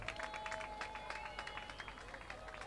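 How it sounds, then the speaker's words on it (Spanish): Crowd applause for a driver at the Esteiro soapbox Grand Prix, a steady dense clatter of many hands with a faint continuous tone running underneath, sustained evenly throughout. "Aquí yo temos fortes aplausos para Iván Ares"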